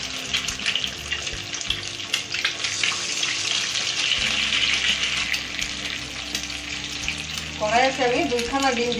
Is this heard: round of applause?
no